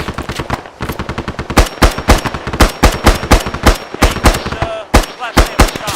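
Loud, close machine gun fire in Arma 3, with long, rapid sustained bursts of sharp reports and only brief gaps between them.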